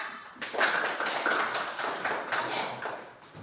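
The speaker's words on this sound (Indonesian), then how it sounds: "Tepuk tangan lagi sekali lagi untuk Rindola." Grade 5 pupils in a classroom applauding a classmate, a steady, fairly loud burst of many hands clapping at once that holds for a few seconds before thinning out.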